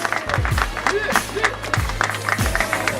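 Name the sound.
audience applause for Councilmember Andy King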